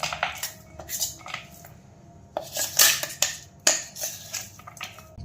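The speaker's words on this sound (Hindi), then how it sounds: "तो चना दाल को हम एक बर्तन में निकाल देंगे।" Ground chana dal paste for methi vada is scraped and tapped from a grinder jar into a metal vessel, with a series of sharp, close clinks and scrapes in irregular bursts.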